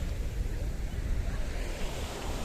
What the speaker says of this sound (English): the sea is kissing and licking the shoreline today